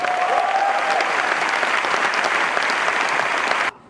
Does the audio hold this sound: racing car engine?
no